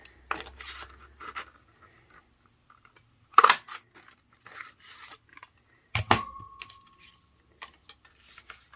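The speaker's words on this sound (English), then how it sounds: "cut some labels" Scissors snipping through paper labels at a craft table, a few short, crisp cuts and rustles separated by quiet pauses, close and fairly soft.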